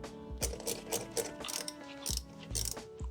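Ratchet wrench clicking in bursts while tightening bolts on a car engine during an A/C compressor replacement, with quick repeated pawl clicks separated by short pauses, close and alone.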